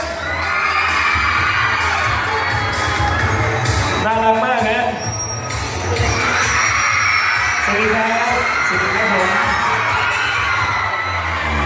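A large crowd at a Thai concert cheers and shouts continuously and loudly, with a voice speaking over the noise.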